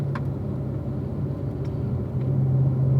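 Race car on a road course at Ron Fellows, driven by a student under instruction, with a steady loud engine drone that builds and grows louder toward the end, with no talk.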